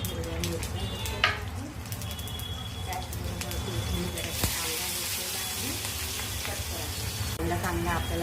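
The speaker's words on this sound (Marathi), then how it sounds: "कांदा आपल्याला तेलामध्ये परतून घ्यायचा आहे" Onion frying in hot oil in a kadhai, over an asafoetida tempering with curry leaf powder, while cooking a dry ghevda bean dish; steady close sizzling and crackle throughout, with a few utensil clinks and a voice speaking over it.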